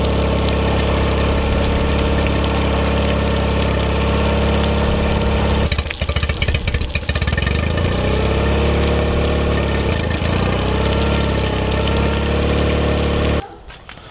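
Outboard motor on a jon boat idling with the choke on after winter storage, a loud, close, steady mechanical drone with a brief rougher stretch midway before it cuts off near the end.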